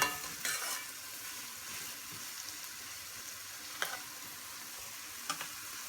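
Onions fry quietly in a pan for a vegetable curry, a soft steady sizzle broken by a few scraping stirs of a utensil, with no voices.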